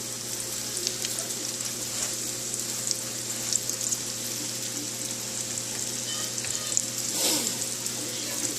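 Salmon croquettes with fresh-cut green onion fry in a pan, giving a steady, close sizzle with a soft hiss throughout and a brief swell of bubbling near the end; nobody speaks.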